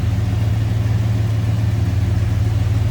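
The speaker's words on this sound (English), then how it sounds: "There's that 413 wedge V8 power steering. Smooth running engine. Check that out. Sounds good." The 413 wedge V8 of a 1960 Chrysler New Yorker idles with a steady, low, even rumble, close and constant with no talking.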